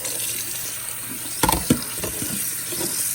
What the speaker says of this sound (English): So I wash my rice.